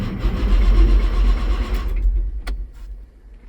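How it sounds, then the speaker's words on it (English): Case STX375 tractor engine cranking over with a fault but failing to start, a loud steady low churning that drops away near the end, followed by a sharp click. "we've got an engine fault and it will not start."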